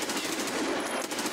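Automatic rifle fire in the online shooter game Escape from Tarkov, a dense continuous burst of rapid gunshots lasting throughout, loud and unbroken.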